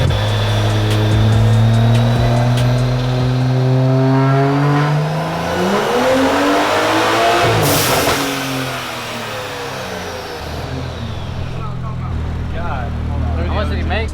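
A turbocharged BMW running E30 fuel revs hard on a dyno, the engine note climbing in pitch through a loud sustained pull, peaking, then dropping back to a steadier drone near the end, with voices talking over it.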